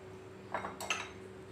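Custard powder slurry being stirred into milk in a pot, heard as a few quiet clinks and scrapes of a spoon against the metal over a steady low hum.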